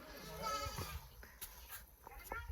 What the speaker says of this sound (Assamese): পিছপিনে এইটো কি ছাগলী